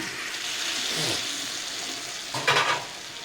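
Boiled mutton tipped into hot masala and stirred for dum biryani, a continuous hissing sizzle with a louder wet splash and scrape as the meat goes in near the end.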